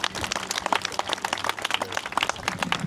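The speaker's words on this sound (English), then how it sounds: "Let's give her a big round of applause" An outdoor crowd at a Veterans Day parade and ceremony claps in a dense, steady patter of many hands, moderately close and continuous with no speech over it.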